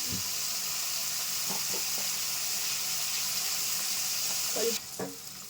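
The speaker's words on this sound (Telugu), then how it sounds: "ఇప్పుడు ఉల్లిపాయలు ఇలా వేగుతున్నప్పుడు" Onions, green chillies and curry leaves fry with a little turmeric in oil, making a soft, steady sizzle with a few light stirring touches; the hiss drops away near the end.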